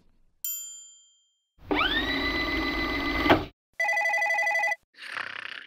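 An office telephone rings in bursts of electronic bell tone, preceded by a single ding, with short gaps of silence between the rings and a final softer burst, loud and close.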